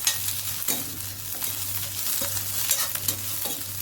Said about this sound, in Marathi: इथे मी 2 हिरव्या मिरच्या घेतल्यात, तिखटवाल्या नाही, आलं आणि लसूण. हे पण आपण अगदी 2 मिनिटासाठी फक्त परतून घेऊया.